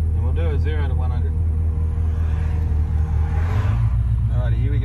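A Holden VS Series 3 V8 ute in sports mode rumbles from inside the cabin, engine tone holding a steady low drone with a brief rising pitch sweep, loud and continuous throughout.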